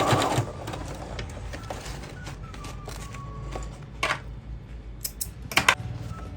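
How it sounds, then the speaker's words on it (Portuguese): A sewing machine runs a zigzag stitch along fabric to finish an edge, a steady close mechanical whirr with small ticking knocks and a few sharper clicks near the end. "E vou fazer uma costura zigue-zague para fazer o acabamento aqui para não desfiar."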